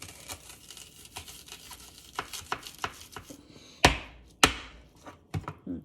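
A knife chops through an onion on a board, giving a run of sharp, close cutting knocks with two loud cracks near the end, over quiet kitchen background.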